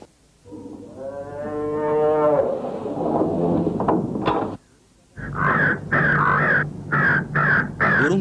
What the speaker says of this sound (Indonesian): Burung gagak itu datang dan mematuk di bagian perut.